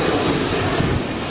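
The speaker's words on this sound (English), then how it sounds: "airliners coming from Melbourne, Sydney, even Perth, and land on the Gold Coast," Broad steady roar of an airliner landing at Gold Coast's Coolangatta Airport, loud and continuous with no voices.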